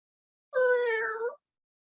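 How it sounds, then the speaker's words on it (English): A big cat gives a single drawn-out meow for attention, close and clear, lasting under a second in an otherwise quiet room. "Like, look at this kitty. Yeah, it wants all the attention."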